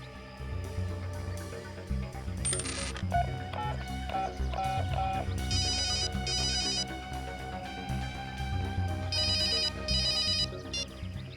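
A mobile phone ringtone plays a repeating electronic melody with bright chiming bursts, steady and moderately loud throughout.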